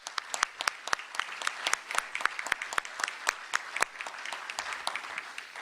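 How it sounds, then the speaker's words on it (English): An audience claps in a room after a task force member from Spotsylvania County Public Schools is introduced at an event with Virginia Governor Glenn Youngkin, giving steady, dense applause with sharp individual claps throughout and no talking. "Let's give them an applause."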